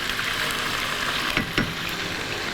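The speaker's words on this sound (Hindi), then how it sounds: "हाई फ्लेम पे थोड़ा सा पकाएंगे इसको ताकि ये जो ब्लड वगैरह होता है वो भी ड्राई हो जाए" Chicken liver fries in a pan over high flame, giving a dense, even sizzle from start to finish, with a couple of brief stirring scrapes near the middle.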